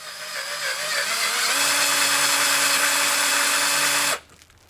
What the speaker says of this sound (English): So I'm just going to try now and hold this and drill in.